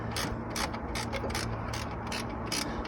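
Rapid ratchet clicks in repeated bursts as a ratchet tightens the lower starter motor bolt on a Peugeot 205 diesel, close and steady, with no talk.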